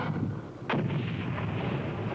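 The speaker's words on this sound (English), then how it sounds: "Grenade, hit the ground." A grenade goes off during a combat exercise: one sharp, heavy blast partway through, with a rumbling boom trailing after it, set against a steady background.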